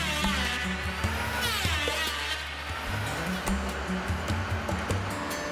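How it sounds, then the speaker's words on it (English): A wooden deadwood piece for the Bluenose II schooner is planed, giving a steady buzzing, whirring drone with shifting tones and scattered knocks and clatter, at moderate distance with no talk. "The piece is then planed to meet the new measurements."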